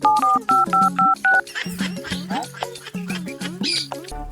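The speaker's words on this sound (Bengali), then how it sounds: "আর একবার ফোন করি" Five quick telephone keypad tones beep in a rapid sequence, followed by a jumble of chirpy, voice-like sounds.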